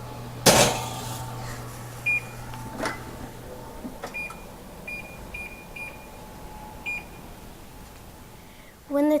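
Kitchen oven timer keypad beeps several times in short, evenly spaced electronic tones after a couple of clunks of the oven door and dish during meatloaf preparation, with faint room noise around.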